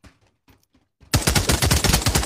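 Sustained burst of MG 34 or MG 42 machine gun fire in the Pavlov VR shooter, loud and close, with rapid rhythmic shots starting abruptly after a second of near silence with faint voices.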